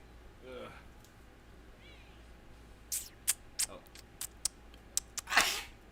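A single sharp sneeze near the end, preceded by soft voices and a few scattered clicks and taps.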